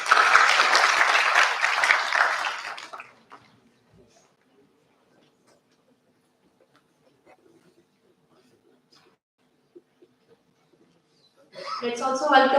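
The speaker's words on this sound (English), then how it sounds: "Give them a big hand, please." Audience applause for guests of honor at the inauguration of a research incubation conclave, a burst of clapping that fades out after about three seconds, followed by near silence before a voice begins speaking.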